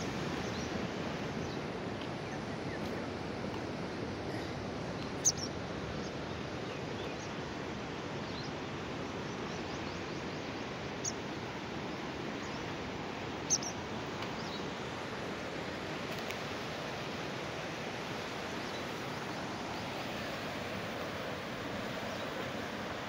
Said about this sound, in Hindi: पानी की आवाज़ से और पानी के ज़ोर से आप पानी की शिद्दत का अंदाज़ा लगा सकते हैं।